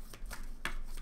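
Tarot cards being shuffled by hand, a few soft papery riffles and taps close up, with no talking.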